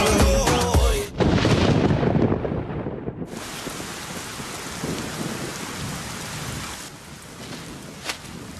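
Heavy rain pours steadily in a scene from the Telugu film Bhale Bhale Magadivoy, while deep thunder rolls and cracks loudly at the start, then the downpour continues alone.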